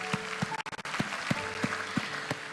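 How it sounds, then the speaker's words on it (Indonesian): Church congregation applauding during a service, a quiet, steady wash of clapping with soft, regularly spaced louder accents, all at a moderate distance and with no talk. "Kasih tepuk tangan buat Tuhan lagi."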